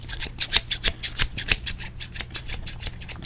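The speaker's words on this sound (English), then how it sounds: "You know I've always loved the sounds of scissors, right? Just snip, snip" Very sharp barber scissors snip hair in a close, crisp series of about a dozen cuts, arriving in a quick, fairly regular rhythm during an ASMR haircut roleplay with no talking.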